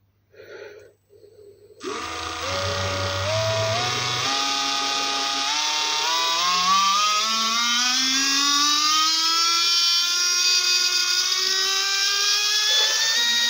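A brushless RC motor driven through a Hobbywing controller winds up from a standstill to a loud, rising high-pitched whine that keeps climbing as the throttle opens.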